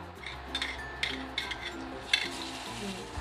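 Garlic sizzles in melted butter in a pan, a soft, steady fry broken by light clinks and stirring taps of a utensil against the pan, close and fairly quiet.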